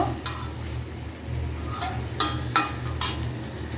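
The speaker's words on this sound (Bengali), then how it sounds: "মাছগুলোকে আমি হালকা করে একটু কষিয়ে নিব" Hilsa fish pieces are lightly sautéed in a pan for a thin potato curry, with a soft sizzle under scattered clinks and scrapes of a spatula against the pan, close and with no talk.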